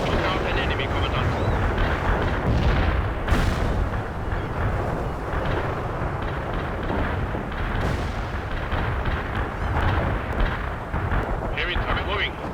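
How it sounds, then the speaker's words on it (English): Heavy artillery fire in the war video game World in Conflict, a dense, continuous barrage of loud booms and blasts with rumbling low end, punctuated by sharper bursts, while voices talk throughout. "Heavy artillery report fire at the target."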